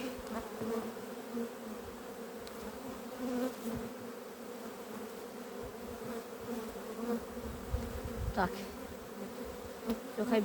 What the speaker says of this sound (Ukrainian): бджола піднімається